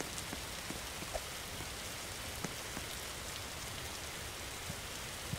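Steady video game rainfall patters across surfaces, with scattered distinct droplets ticking now and then over a constant wash of noise.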